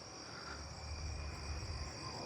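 A narrow-winged tree cricket calls at night from a tree, a steady high-pitched continuous trill at moderate distance, with low background rumble beneath it.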